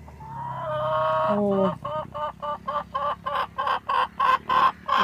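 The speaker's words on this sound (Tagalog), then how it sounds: "Nara akong mga manok," A free-range hen gives a long drawn-out squawk, then launches into a rapid run of repeated clucks, close and fairly loud, with a brief human exclamation.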